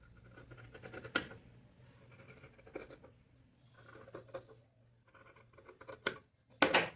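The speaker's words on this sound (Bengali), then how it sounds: "এইবার এই দাগের সমান করে আমরা এই ফেব্রিক কাপড়টা কাটবো।" Scissors cut fabric along a marked line for a small summer doll dress, with irregular crisp snips and rustling paper-like crunches close by, pausing between cuts, ending with a sharper louder snip.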